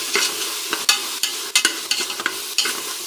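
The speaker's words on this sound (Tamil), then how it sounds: "கொத்தமல்லி கருவேப்பிலை ஆட் பண்ணியாச்சு. இதையும் வதக்கிட்டுக்கலாம்." Coriander and curry leaves sauté in a pan for egg biryani, a steady sizzle punctuated by quick, irregular scraping strokes of a spatula, close up with no voices.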